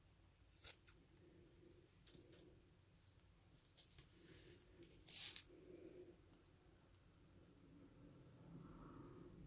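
Scissors snip around a felted wool nose shape, a few soft, close, isolated cuts spaced apart in an otherwise quiet room, with one sharper crisp snip near the middle.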